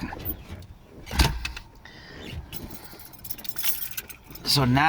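Car keys jangle near the ignition, with a sharp metallic clatter around the first second and more rattling toward the end, under a low cabin hum.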